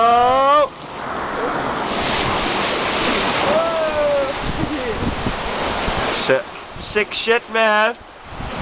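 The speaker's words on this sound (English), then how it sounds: "River rapids." Rushing white water of a river rapids amusement ride roars loudly and steadily, with excited voices talking and shouting over it at the start and end.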